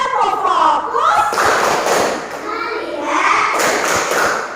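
Schoolchildren in a classroom clap hands together in a focus clap routine, dense patches of many hands clapping in quick rhythm, close and loud, mixed with children chanting in unison.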